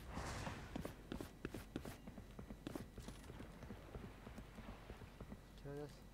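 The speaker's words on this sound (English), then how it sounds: "Actually, I hear footsteps." Footsteps in the tactical shooter Valorant, a series of quick, sharp steps during a match, heard faintly under game noise and players talking over voice chat.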